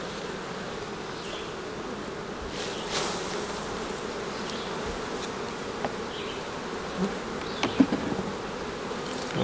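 Honeybees hum steadily around open hive frames during a colony expansion to an upper storey, a continuous close drone with a few louder individual bees passing near.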